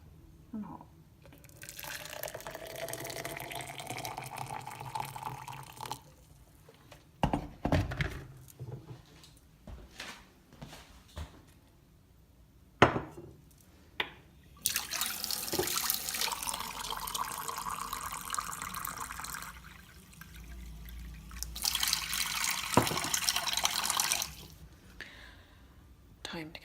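Hot water from a freshly boiled kettle being poured and running into a cup to make a drink, splashing and trickling in long stretches with pauses, close by, with soft speech at times.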